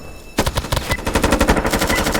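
An AP-25 assault rifle in the tactical shooter Due Process fires a rapid full-auto burst of about a dozen evenly spaced, loud, close shots.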